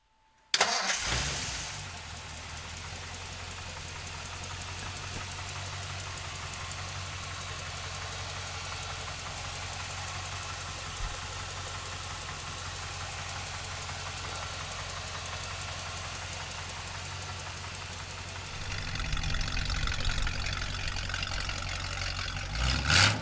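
A 1956 Ford Crown Victoria's Y-block V8 cranks and catches, then settles into a steady, even idle that runs close and continuous for the rest of the clip, rising slightly near the end.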